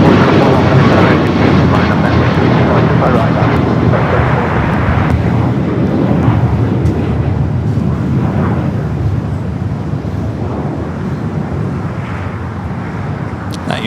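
Boeing 737 MAX 9 departing LAX, its jet engines a loud continuous roar that holds steady and slowly eases off across the whole stretch.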